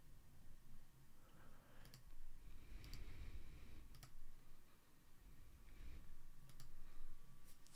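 A computer mouse clicks a few times while opening Ableton Live 10 Lite, the faint sharp ticks spaced out over a quiet hum with no talk.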